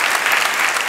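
Close, dense clapping from a crowd at an improv theatre festival in Paris, a short steady burst of applause with no voices.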